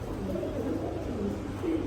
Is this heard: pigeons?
yes